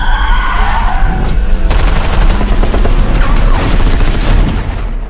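Loud gunfire from a film trailer's car-chase scene, dense rapid bursts of shots with screeching and engine noise packed into a continuous, booming action mix.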